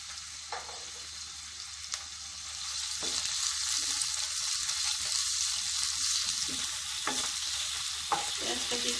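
Chopped onions fry in hot oil, a bright, continuous sizzle that swells after a couple of seconds, with occasional stirring scrapes and no voices.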